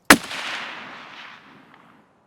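A single rifle shot fired toward the back of an island in a shooting game, one sharp loud crack with a long rolling echo that fades out over about two seconds.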